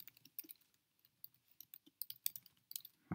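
Quiet, close tapping of keys on a computer keyboard during form entry, irregular short bursts of clicks with brief pauses and a louder tap at the end.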